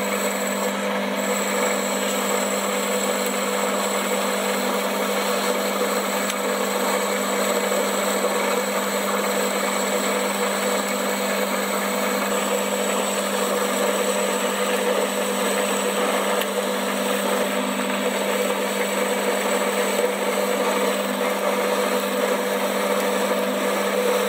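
A metal lathe with a four-jaw chuck turns down steel stock from 25 to 15.75, a constant, even motor drone running unbroken throughout with no one speaking.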